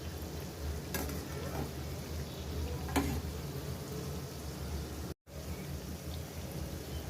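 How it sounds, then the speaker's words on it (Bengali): Goja, a sweet dough, fries slowly in oil with a soft, steady low sizzle and bubbling, broken by a couple of faint clinks and a brief dropout. "ধীরে ধীরে ভাজতে হবে যাতে ভেতর পর্যন্ত ঠিকভাবে ভাজা যায়।"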